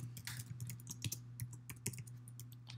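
Someone types a name on a computer keyboard: quiet, quick key taps in an irregular run over a low, steady electrical hum, with no speech.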